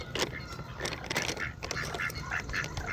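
Ducks and other water birds at a pond quack repeatedly in a busy, overlapping chorus, close and fairly loud, with no talk over them.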